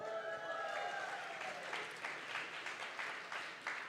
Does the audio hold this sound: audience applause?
yes